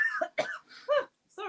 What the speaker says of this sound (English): Sorry, I've just got a cough.